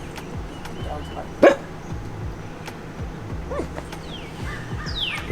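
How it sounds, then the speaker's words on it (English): A dog at a riverside RV campground on the Hillsborough River gives a single sharp, fairly loud bark amid a quiet outdoor background of distant birdsong and faint ambient rumble. "Peachy, we're trying to enjoy the birds, not the dog barks"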